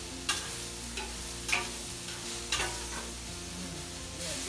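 Chicken and bacon quesadilla filling is stirred in a hot pan, with four or five distinct scraping strokes over a steady, gentle sizzle, close and without talk.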